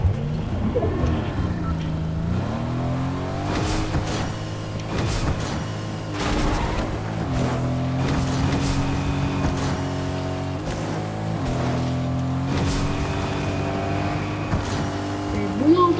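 A car engine in Fortnite Chapter 6 revs and shifts pitch as it drives, rising and falling with gear changes, with sharp clatters and voices talking over it.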